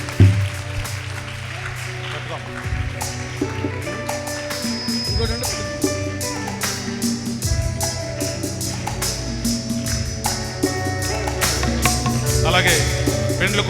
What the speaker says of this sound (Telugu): అందరూ కూడా చప్పట్లు కొడదాం.